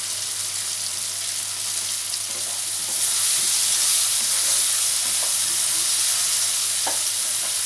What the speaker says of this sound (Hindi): टमाटर गलने तक इसको पका लेते हैं